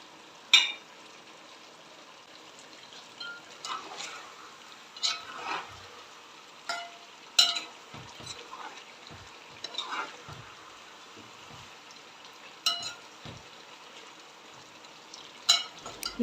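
Carrots frying in oil for Uzbek plov, with soft sizzling underneath and intermittent scraping stirs and clanks of a utensil against the pot, fairly quiet and close.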